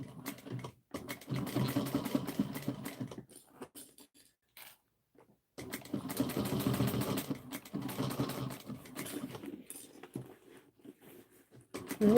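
A sewing machine stitches a bag in bursts of rapid rhythmic whirring and tapping, pausing briefly in between, with quieter gaps and a faint restart toward the end.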